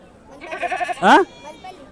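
Goats bleat at a livestock market in Dubbaka, Siddipet district, with one loud wavering bleat standing out amid nearby voices and a steady murmur of market chatter.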